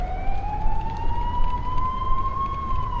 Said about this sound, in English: it's an ambulance, dude